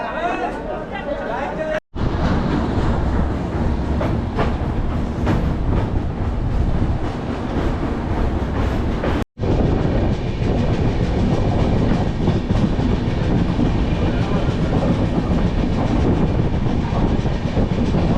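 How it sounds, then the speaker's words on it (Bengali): A long-distance passenger train runs steadily along the rails between Durgapur and Kashmir, heard from inside a carriage as a loud, continuous rumble with a clickety-clack rhythm, cut off by two brief gaps, and with chatter in the background. "এবারে আবার ট্রেনে চাপবো আবারও সেই বোরিং জার্নি"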